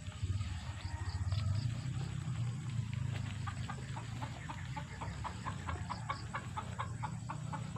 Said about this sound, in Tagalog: Nagagalit yung manok.